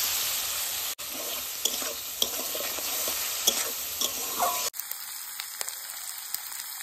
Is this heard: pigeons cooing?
no